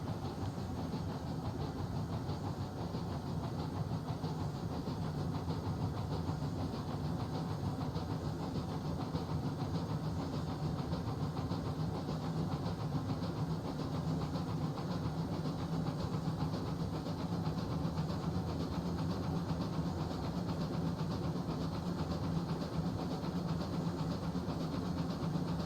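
A steam locomotive in the Railroads Online video game runs steadily, its chugging exhaust and hiss forming a continuous loud rumble throughout, with no voices.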